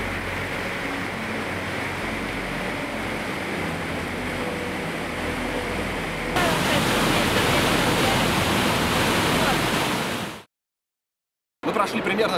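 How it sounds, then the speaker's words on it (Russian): A roaring 25-metre mountain waterfall in the Caucasus, with a continuous dense rush of water that grows louder partway through before cutting out briefly. "открывается вся ревущая мощь горной реки"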